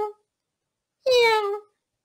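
A voice imitates a cat, giving one loud, clear meow that slides downward after a brief clipped sound at the start, alone against silence.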